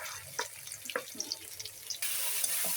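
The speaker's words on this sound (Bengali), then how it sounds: "পেঁয়াজটা এই পর্যায়ে ভাজা হলে আমি মাংসটা দিয়ে দিব।" Marinated beef meets frying onions in a pan for beef tehari. A few soft clicks and scrapes lead into a sudden, sustained hiss of sizzling, all fairly quiet and close.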